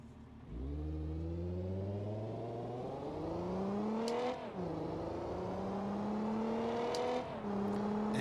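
A car engine in BeamNG.drive, set up as a banger race, revs and climbs through gears, with rising pitch that drops at each shift, loud and continuous with no talking.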